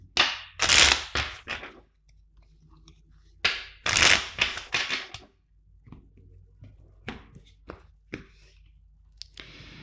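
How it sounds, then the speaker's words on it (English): Tarot card deck being shuffled by hand, crisp riffling bursts of cards in two main passes followed by softer taps and shuffling rustles, close and with no talking. "First, let's shuffle four times the deck."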